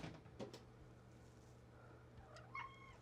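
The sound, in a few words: cat meowing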